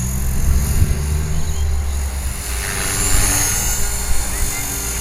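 An EXI450 radio-controlled helicopter hovering outdoors with a Spektrum DX6i transmitter, a steady high-pitched rotor and motor whine with low buzzing underneath, continuous and fairly close.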